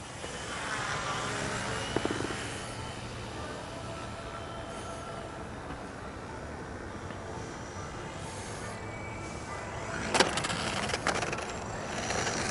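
A Twisted Hobbies Crack Turbo Beaver model airplane's small engine drones steadily outdoors over a street during 3D flying, its buzzing whine rising and falling as it moves, with a couple of sharp knocks near the end.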